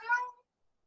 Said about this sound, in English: We have a very vocal cat who likes to talk about historical settings.